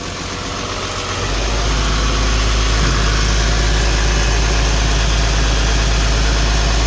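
A car engine idles with a steady, deep rumble and throaty exhaust noise, growing louder after the first second and holding constant throughout; the exhaust pipe appears clogged, giving a blown, shock-absorber-like sound.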